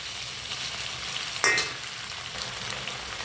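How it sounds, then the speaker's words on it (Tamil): Onions and tomatoes sauté in a pan for paruppu urundai kulambu, a steady close sizzle with one brief scrape of a stirring spoon. "நல்லா மஞ்சி ஒரு கிரேவி பதத்துக்கு இந்த வெங்காயம் தக்காளி நல்லா வதங்கணும்."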